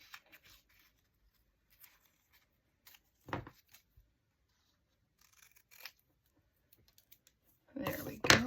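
Scissors snip the corners off a paper tag cut from a book page, making a few sparse, close, crisp cuts and rustles with quiet pauses in between, ending in a louder flurry of paper handling.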